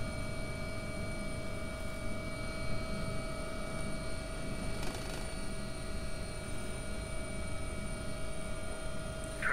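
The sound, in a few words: AW-139 helicopter in X-Plane 11 flight simulator video game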